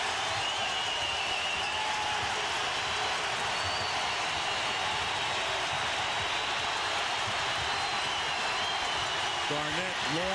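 A basketball arena crowd roars after a game-tying shot in a 2004 NBA playoff Game 6, Sacramento Kings against Minnesota Timberwolves, a dense, sustained cheer filling the whole clip with a commentator talking over it.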